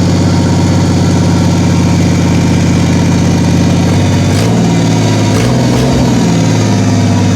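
A rebuilt Honda Acty HA4 (E07A) engine idles loudly and steadily nearby after a test fire, with a deep, even rumble; a few brief knocks and shifts in the tone come near the end.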